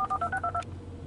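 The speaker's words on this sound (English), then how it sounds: "we simply press the telephone dial out button" Telephone dialing tones from a Range Rover's mObridge Bluetooth system, a quick run of about six short, evenly spaced beeps heard in the car cabin, followed by a low hum after they stop.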